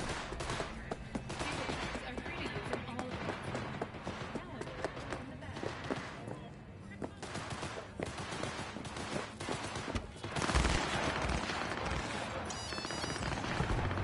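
Gunfire in Cyberpunk 2077 on PS5, a dense run of rapid shots and bursts over a loud, busy combat mix, with voices speaking through it.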